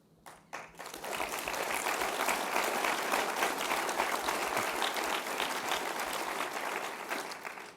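Convention audience at the AMA 2023 Annual Meeting applauding and cheering an inaugural presidential speech, a sustained dense burst of clapping that rises quickly and holds steady before tapering off.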